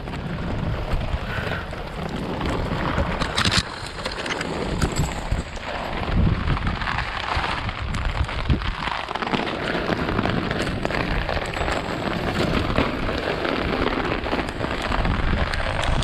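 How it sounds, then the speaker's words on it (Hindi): Heavy rain and gusting wind pound a campsite and tent in a steady, dense roar that fills the whole stretch without letup. "पवन वर्षा बहुत जोर"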